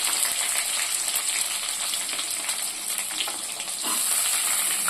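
Onion frying in a pan for kurma kulambu gives a steady, loud sizzle that runs the whole time with faint stirring noises, and nobody speaks.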